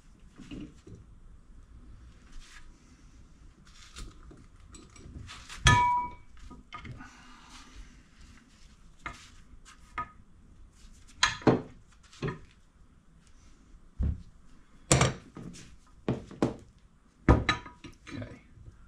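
Metal tapping and clinking while new cotter pins are worked into a 6-inch Kobalt bench vise, scattered sharp clanks and small clicks at irregular intervals over quiet background.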